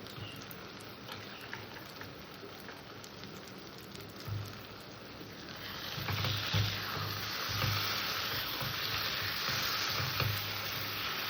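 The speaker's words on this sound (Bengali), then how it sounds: "আলুটা দিয়ে আমি আর একটু কষে নেবো" Fried potatoes being sautéed in a spice masala for a pointed gourd and prawn dish, a gentle sizzle that grows louder and denser midway, with soft stirring scrapes and thumps.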